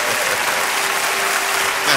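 A church congregation applauds for Jesus during a French-language service, a dense, loud, continuous clapping from a crowd that swells slightly toward the end.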